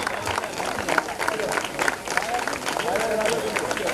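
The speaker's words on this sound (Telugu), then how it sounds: "గట్టిగా చప్పట్లు కొట్టాలి." Crowd clapping and chatter at a school annual day function, a continuous busy wash of hands with voices mixed in.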